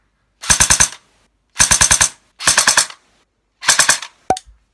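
APS Black Dragon PDR airsoft gun firing four short full-auto bursts of about three to four rapid cracks each, loud and close from the muzzle, separated by brief silences, ending with a sharp single mechanical click.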